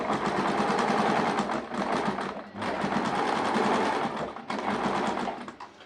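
Sewing machine stitching the slit of a churidar, a close, steady rapid clatter of the needle running continuously, with two brief pauses where stitching stops and restarts.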